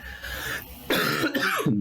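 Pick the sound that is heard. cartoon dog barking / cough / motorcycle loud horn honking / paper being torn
cough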